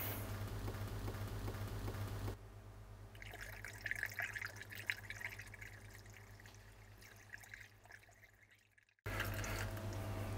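Coolant is poured through a tiny funnel into a radiator bleed screw. A steady close trickle and gurgle goes on under a background hum, with dripping splashes in the middle, before the liquid fades out into near silence.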